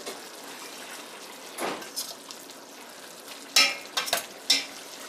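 Minced garlic frying in a pan makes a soft, steady sizzle, broken by several sharp scraping stirs near the end and no voices.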